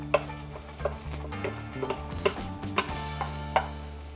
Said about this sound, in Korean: 팬에 기름을 둘러주시고요 마늘을 볶아볼게요